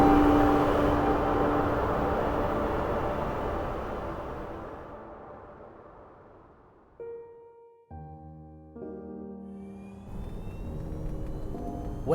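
A Ferrari 296 GTB turbo-hybrid supercar accelerates, its roar starting loud and fading steadily into the distance, followed by quieter gear-like tonal shifts and a rising whine near the end.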